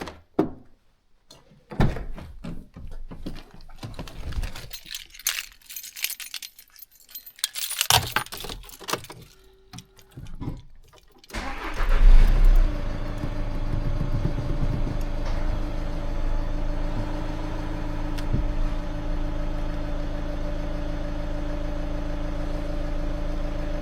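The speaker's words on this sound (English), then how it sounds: "Then you need to start your engine and wait for 2-3 minutes." Keys jangle and clunk for several seconds before a car engine starts with a burst and settles into a steady, close idle that hums on to the end, part of a check for exhaust gas leaking into the cooling system.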